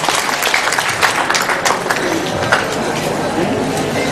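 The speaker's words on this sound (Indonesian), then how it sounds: "Tepuk tangan yang luar biasa untuk Bapak Rikan." An audience bursts into loud, crackling applause at a university Faculty of Economics and Business 57th anniversary celebration with a traditional kethoprak performance, the claps dense and close, with crowd murmur underneath.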